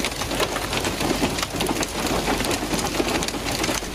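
Heavy rain with hail pours down steadily over Islamabad, a dense, constant hiss and patter of drops on surfaces throughout, loud and close with no break.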